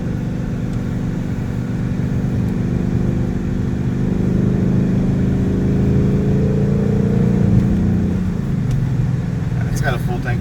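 A 2018 Ford Mustang GT on a road test drive gives a loud, steady engine drone with road rumble, its pitch climbing slightly as it pulls forward near the end.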